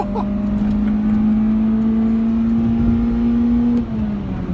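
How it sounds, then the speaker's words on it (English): An Acura RSX Type S engine with an Invidia Q300 exhaust holds a loud, steady high-pitched exhaust drone, then eases off slightly near the end. "The exhaust screams a bit"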